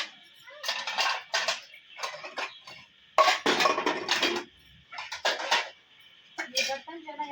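Freshly washed metal dishes and utensils clatter and clink as they are stacked away, in several sharp bursts separated by brief pauses, with a voice briefly heard near the end.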